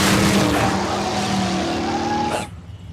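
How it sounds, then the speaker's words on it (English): A cartoon supercar roars and skids through the jungle, its loud engine and squealing tires sustained for a couple of seconds before cutting off abruptly into near silence. "George just drives supercar all over jungle having fun"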